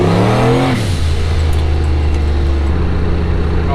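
Turbocharged S10 pickup truck engine revs, then settles into a steady, loud, close rumble as the pitch drops and holds.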